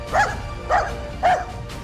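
A dachshund barks three times in an even rhythm, close and sharp yips about half a second apart over a low background hum, in a busy South London home.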